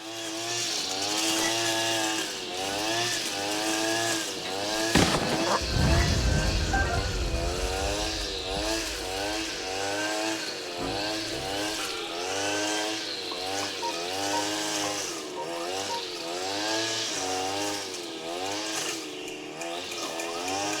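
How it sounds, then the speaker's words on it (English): A lawnmower engine in Zelda: Breath of the Wild drones with a steady, buzzy two-stroke whine that rises and falls in pitch, and a brief thump near the middle. "this lawnmower will distract them"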